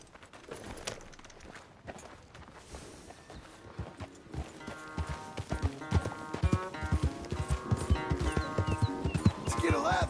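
Horse hooves clop steadily in Red Dead Redemption 2 as a rider sets off, starting sparse and soft, then building into a fast, loud rhythmic gallop with creaking tack and birdsong around.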